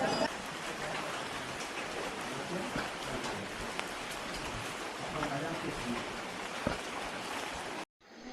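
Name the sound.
heavy rain falling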